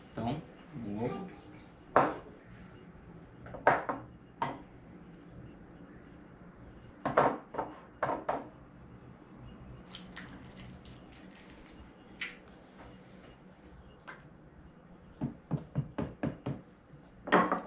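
A spoon stirs homemade bread dough in a bowl, making irregular bursts of knocking and scraping against the bowl with quiet pauses between strokes.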